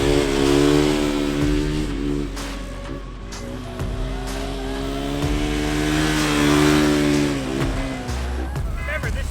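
A street-legal 500 motorcycle revs hard and accelerates while pulling wheelies, its engine roaring loud and close with rising and falling pitch sweeps, while people talk over it.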